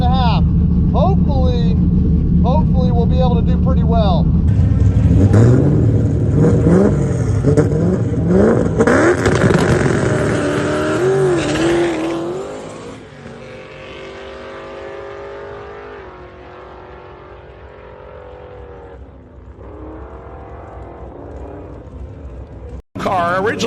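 A teal 1993 Mustang Cobra with a Gen 2 Coyote V8 and a single turbo launches at a drag strip on Mickey Thompson tires, with a loud revving engine that surges, then fades into the distance. Voices talk over it.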